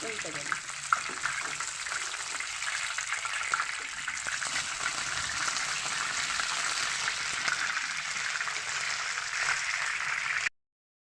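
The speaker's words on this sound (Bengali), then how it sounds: "ফ্লেমটাকে আসতে দিয়ে আমি মাছগুলোকে ভেজে নেবো" Bombay duck (lote) fish, dipped in batter, frying in hot oil in a pan, giving a steady, close hiss and crackle that runs unbroken for about ten seconds before cutting off.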